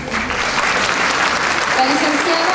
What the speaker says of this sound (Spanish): para quienes les pido un aplauso